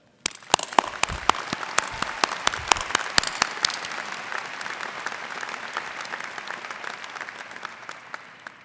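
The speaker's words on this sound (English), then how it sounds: "I'd like to pause and ask for you to join me in a round of applause for the parents" An audience at a UNC-Chapel Hill winter commencement applauds the graduates' parents, starting with a few sharp individual claps that quickly build into a full, sustained round of clapping that tapers slightly by the end.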